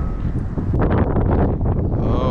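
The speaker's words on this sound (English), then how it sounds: "A little windy." Strong wind buffets the microphone outdoors by the water on a fishing outing, a loud continuous rumbling roar with gusty swells throughout.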